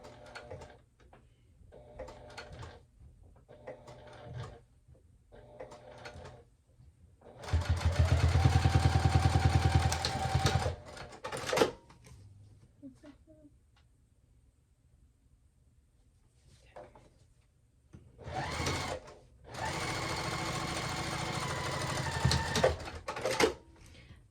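A domestic sewing machine stitches a wristlet clutch in two bursts of steady mechanical whirring, separated by quiet stretches with short clicks and handling noises.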